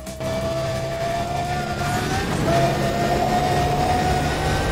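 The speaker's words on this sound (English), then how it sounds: "The car audio in Undercover is mixed erratically, often increasing and decreasing in volume and distortion seemingly at random" Engine audio from a car in the racing video game Need for Speed Undercover: a dense, loud, steady roar with a droning tone that wavers and shifts abruptly partway through, sounding distorted and unevenly mixed.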